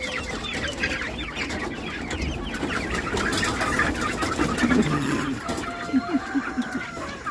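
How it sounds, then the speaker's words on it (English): Hens cluck repeatedly over a busy outdoor farm background, with a few sharper calls near the end; steady, moderately loud farmyard noise throughout, after rain. "Wrangling chickens every morning."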